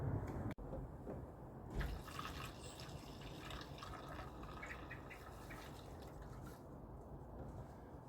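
Diesel fuel poured into the tank of a diesel space heater, a steady close liquid pour and trickle running continuously with a brief knock near the start.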